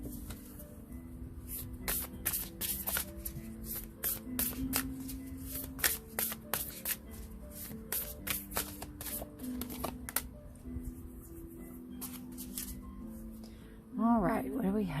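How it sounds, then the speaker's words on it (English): A deck of tarot cards is shuffled in a long run of quick crisp riffles and flicks, with a voice talking over much of it and a short soft swell near the end. "we're going to pull one more card for you all, Sagittarius. If I can get the deck without messing all these cards up"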